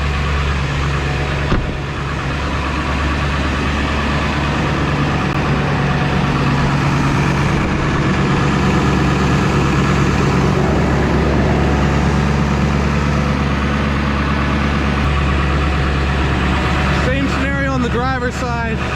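A 2001 Ford F-550 XLT four-wheel-drive work truck engine holding a high idle, a loud, steady, close diesel-like drone throughout, with a voice talking briefly near the end.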